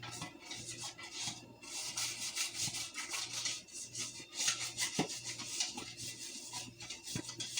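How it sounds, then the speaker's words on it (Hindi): Greasing a cake pan for a dark chocolate cake: a steady, close brushing and rubbing scrape across the pan's surface, continuous for several seconds with small bumps, no voices. "इसको मैं ग्रेस कर लेती हूँ पैन को"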